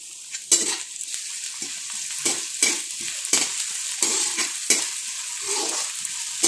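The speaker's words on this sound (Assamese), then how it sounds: "আদা আৰু নহৰুৰ গোন্ধটো যোৱালৈকে কেঁচা গোন্ধটো যোৱালৈকে ভাজি থাকিম" Ginger-garlic paste sizzles and fries in a hot pan while being stirred, a steady crackling hiss with a few sharper scrapes of the utensil against the pan, close up and with no talking.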